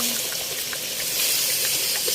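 Water streams steadily into a cooking pot for native chicken tinola, a continuous hissing gush that holds at an even level throughout.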